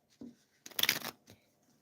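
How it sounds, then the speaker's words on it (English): Tarot cards being shuffled by hand, heard as a couple of short, quiet papery riffling bursts in a silent room. "I'm going to shuffle one card for Elaine"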